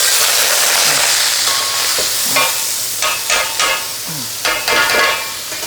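Glutinous rice stir-fried in shallot oil for lor mai gai, with a steady sizzle under repeated scraping strokes of a spatula through the grains.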